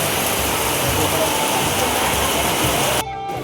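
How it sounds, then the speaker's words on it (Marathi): Steady, heavy rain hissing close by, a dense unbroken wash of noise that cuts off abruptly near the end. "पावसाचं आगमन झालं आहे"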